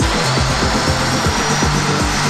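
A router running with a dovetail bit in a CMT Enlock jig, cutting a dovetail socket: loud, steady high whine with a rhythmic pulsing as the bit moves through the wood.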